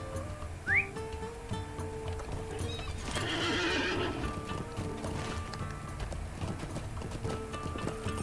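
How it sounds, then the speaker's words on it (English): A horse whinnies near the start in the video game Lord of the Rings Online, followed by steady clip-clopping hooves over ambient game music and a brief whooshing sound. "jump on my horse"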